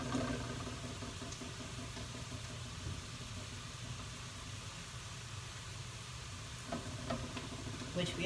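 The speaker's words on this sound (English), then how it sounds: "So we should get a nice sizzle happening here." Chicken breast sizzles steadily in a hot pan, a continuous crackling hiss at moderate volume with occasional small pops.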